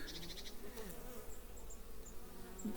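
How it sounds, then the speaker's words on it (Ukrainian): Honeybees flying around a hive, a soft continuous buzzing drone with individual bees passing close, fairly faint and alone. "Бджілки літають активно."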